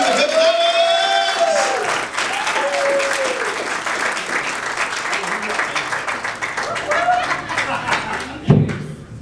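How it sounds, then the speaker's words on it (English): A studio audience bursts into applause welcoming guests onto a stage, dense sustained clapping with some cheering and whoops, tapering slightly near the end with a thud. "So, big round of applause, Al and Sherry."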